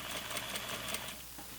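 A sewing machine stitches flannel pajama pants as its bobbin thread runs out, giving a steady, close mechanical whir with quick rattling pulses that thins toward the end, heard alone.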